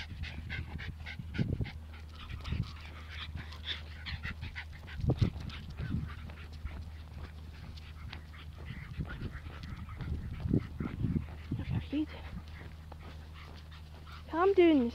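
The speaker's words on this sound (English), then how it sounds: "Stop it! You're barking." A dog barks in short bursts and pants at close range outdoors, with a voice scolding over it and a low steady hum beneath.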